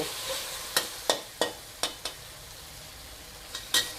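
Fried catfish is stir-fried with basil and chili sauce in a pan, with a soft sizzle under a series of sharp utensil scrapes and clacks spaced irregularly over a few seconds.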